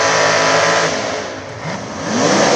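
Supercharged Roots-blower drag cars on 28x10.5 slick tires launching in a final at Shadyside: a loud, continuous engine roar that dips briefly and then swells again as the cars pull away.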